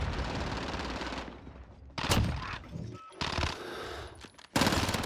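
A Vector submachine gun fires rapid automatic bursts in the Modern Warfare video game. Several dense rattling volleys are split by short pauses, and the shots come loud and close with no talking over them.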